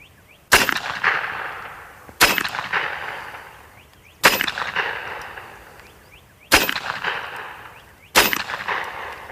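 Five sharp cracks from an AirForce Escape airgun firing pellets, evenly spaced about two seconds apart, each with a short ringing decay, loud and close with no talk.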